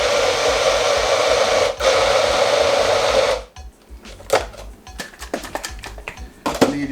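A blender purees mango and pineapple with a loud, steady whirring drone that cuts off after a few seconds, followed by scattered clinks and knocks of kitchen handling.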